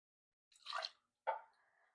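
Canned pineapple juice is poured for a French Martini cocktail: two short, close splashy bursts of liquid, separated by a brief pause, the second fading into a light trickle.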